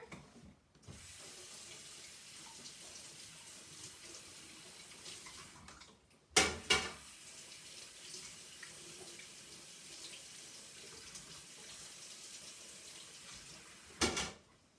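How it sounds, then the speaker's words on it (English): Hot water runs steadily from a kitchen tap over a large serrated knife, a continuous close splashing stream broken by a couple of brief clanks of the metal blade. "take this big serrated knife and run it under hot water"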